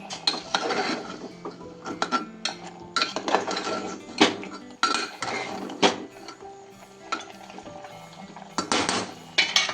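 Mutton being mixed with black masala in a pot for a village-style spicy curry: close, irregular metallic scrapes and clinks of a spoon against the pot, coming in uneven bursts.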